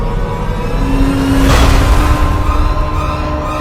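Motor vehicle engine approaching through a forest at night, a steady rising drone with a brief whooshing swell near the middle, fairly loud and alone without talk.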